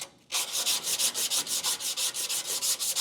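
Sandpaper is rubbed by hand over the steel floor pan of a 1970–81 Chevrolet Camaro, a close, loud, rhythmic scratching of about fourteen quick even strokes after a brief quiet start.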